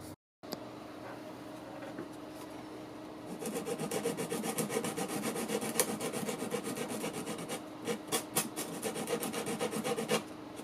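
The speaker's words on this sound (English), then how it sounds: "I think I might actually go use the bandsaw" A bandsaw cuts through material in the workshop, a faint steady whir that turns into a harsher rasping, buzzing cut partway through and continues with small pulses until the end.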